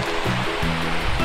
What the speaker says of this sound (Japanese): 川があっても、まあ、音は聞こえるけど、土手がどこなんだかギリギリまで分かんないですね